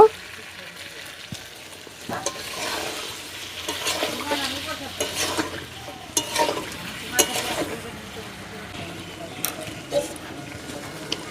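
Water is splashed into a pan of chicken feet frying in hot oil, which spits and sizzles with scattered sharp crackles and scraping stirs while a person talks over it.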